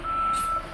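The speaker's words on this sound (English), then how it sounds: "He backed up and dumped a whole bunch of stuff on the ground again." A truck backing up to dump a load sounds a single steady, loud electronic reversing beep that holds for most of the moment, with no talking.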